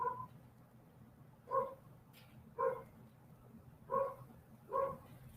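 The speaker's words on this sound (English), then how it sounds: "I really want to go out and reprimand that dog." A dog barks outside in five evenly spaced single barks, moderately distant and faint over a low background hum.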